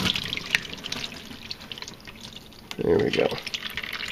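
Transmission fluid drains from the tilted pan of a 1999–2004 Jeep Grand Cherokee, dripping lightly and then surging into a louder pouring stream, with someone speaking briefly.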